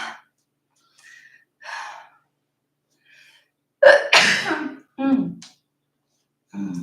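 A single sharp sneeze bursts out mid-clip, loud and close, surrounded by brief bits of talk and breathy sounds before and after.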